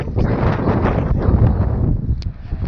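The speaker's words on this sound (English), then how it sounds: "It's bloody windy today" Strong wind buffets the microphone outdoors at the Cedar Point amusement park, a loud continuous rumbling roar that eases slightly near the end.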